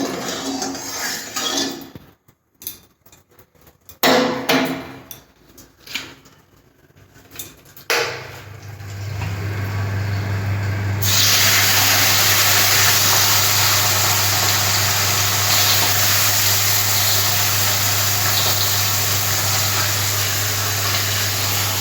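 Small mourala fish, salted, frying in hot oil in a wok in a home kitchen: pan clinks and clatter first, then a loud, steady hiss of sizzling oil over a low hum.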